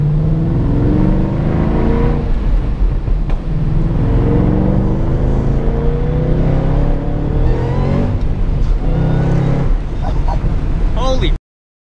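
A 700 hp Shelby with a Whipple supercharger accelerating hard, its loud engine note climbing through short-shifted gears close by while someone talks excitedly over it.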